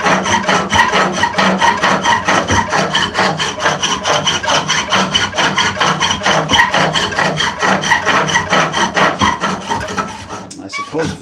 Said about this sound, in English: Come back with this smooth file.